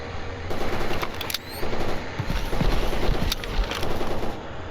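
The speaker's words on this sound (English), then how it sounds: "They put rounds pretty close to me. Sounded like it hit nearby." Rapid bursts of automatic gunfire in the Stalker Anomaly game, rounds cracking and hitting close by in quick repeated clusters with brief pauses, loud and near, with no talking.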